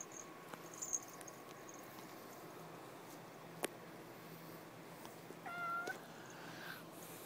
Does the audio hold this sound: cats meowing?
yes